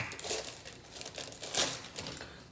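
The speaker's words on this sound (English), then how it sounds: "It's difficult to take the tape off." Tape is peeled and pulled off the cardboard packaging of a Remington vacuum hair clipper, giving close crinkling and tearing rasps in a few short uneven bursts.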